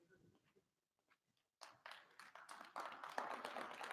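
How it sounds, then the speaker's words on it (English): At a county spelling bee, a small audience breaks into clapping for the last three competitors after a second and a half of near silence, with the applause starting sparse and building louder toward the end. "Let's give them a round of applause."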